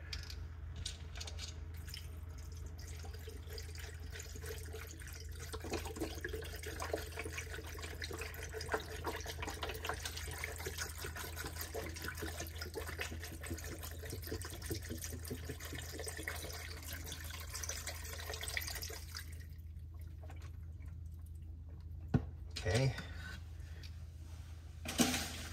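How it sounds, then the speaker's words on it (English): Vegetable broth, a full 32 ounces, pours steadily into an Instant Pot over penne pasta, a continuous soft liquid splashing and gurgling over low hum, ending with a few faint clinks. "Now we add the vegetable broth. We want the whole 32 ounces of vegetable broth in there."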